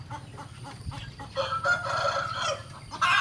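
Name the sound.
chickens clucking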